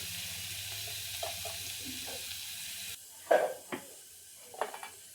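Garlic frying in hot oil for Maharashtrian amti, a soft steady sizzle that cuts off partway, followed by a few close clinks and scrapes of a spoon in the pan.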